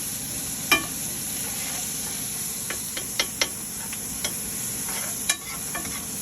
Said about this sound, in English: Get nice stirred up, get all the brown bits on the bottom of it.